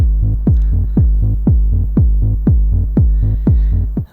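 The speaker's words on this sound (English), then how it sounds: "I've got a DFAM off camera running a kick and rolling bass line." A Moog DFAM synthesizer plays a steady four-on-the-floor kick with a rolling bass line pulsing between the beats, loud and even, about two hits per second with no voices.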